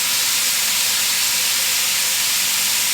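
Beef cubes hit a hot pan and sizzle in a loud, steady hiss that fills the whole moment without a break.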